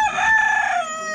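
An Ayam Cemani rooster crows loudly and close, one drawn-out call lasting about a second.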